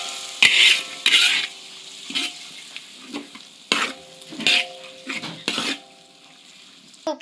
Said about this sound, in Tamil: இப்போ யோகர்ட் போட்டோன்னே நல்லா கிண்டணும்